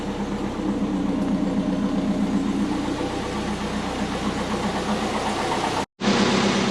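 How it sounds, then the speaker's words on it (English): Steady twin-turbo Subaru Forester engine drone runs throughout, close and constant, cutting out for a split second before resuming. "It's definitely revving a lot better."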